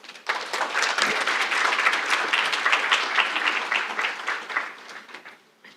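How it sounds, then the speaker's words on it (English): An audience at the Political Analytics Conference 2025 claps during a keynote, the applause swelling quickly and holding strong for several seconds before tapering off. "Please join me in a round of applause as I pass it over to Jennifer."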